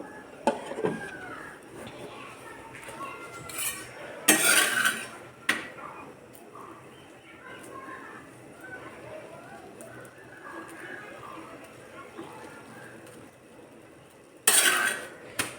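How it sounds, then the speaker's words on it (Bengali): Leftover fried vegetables being reheated in a pan, with a utensil clattering loudly against the metal in short bursts near the start and again at the end, and quieter scraping and household background between. "সবজি ভাজি করে রেখেছি সেটা গরম করে নিচ্ছি রুটি দিয়ে খাওয়ার জন্য"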